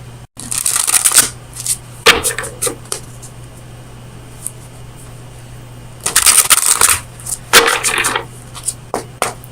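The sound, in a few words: shuffling oracle cards from the Oracle of Visions deck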